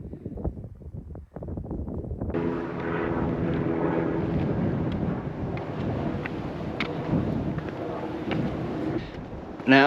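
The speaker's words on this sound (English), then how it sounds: "The sound you can hear probably in the background, helicopters" Helicopters drone over Kings Canyon in Australia's Red Centre, a steady broadband rotor roar with faint harmonic tones that swells in after a couple of seconds and stays loud and continuous, mixed with wind buffeting the microphone.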